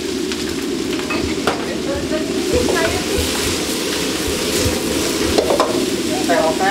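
Onion and red and green bell peppers sizzle and crackle in a hot pan while being stirred, with spatula scrapes and clinks against the metal over a continuous frying hiss.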